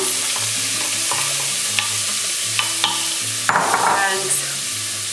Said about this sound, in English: So I got my olive oil going in both pans.